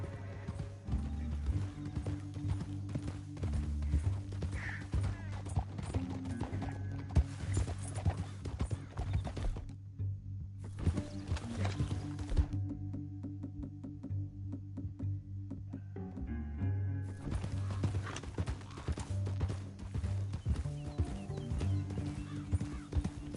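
Horse hooves clip-clop in Red Dead Redemption 2, a steady trotting rhythm up close over low sustained tones of game ambience that drop out briefly partway through.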